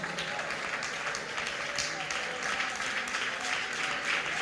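Congregation at a Malayalam Pentecostal worship service clapping hands in praise, a dense steady wash of clapping throughout with voices mixed in.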